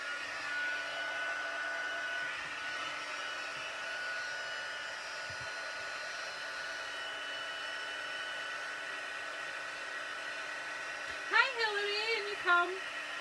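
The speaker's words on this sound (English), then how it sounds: "Heat tool again going on." A crafting heat tool blows hot air in a steady, even whir that runs throughout, with a brief voice near the end.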